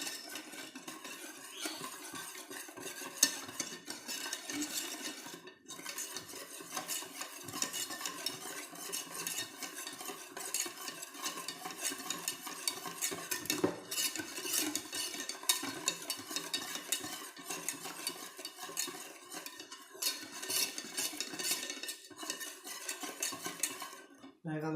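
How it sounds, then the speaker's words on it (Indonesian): A spoon or whisk stirs dadar gulung batter in a bowl until smooth, with steady, continuous scraping and light clinks against the bowl's sides, close and fairly loud, running alone throughout. "Baru harus aduk rata dulu, benar-benar aduk rata."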